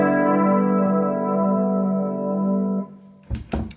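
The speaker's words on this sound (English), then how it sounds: "So we've got a chorus." An electric guitar chord rings out through a chorus effect from an Axe FX II paired with a Friedman BE100 amp, sustaining loud with shimmering, wavering overtones and fading after about three seconds, followed by a few short muted strums.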